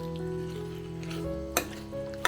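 A pan of finely chopped potatoes tossed with masala for a quick morning aloo sabzi, stirred in a low steady sizzle with two sharp scrapes of the spoon against the pan near the end.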